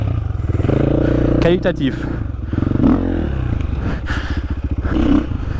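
Enduro motorcycle fitted with a de-baffled Akrapovic exhaust, its engine revving and burbling loudly up close in repeated throttle blips over a rapid thumping idle, with a voice briefly talking over it.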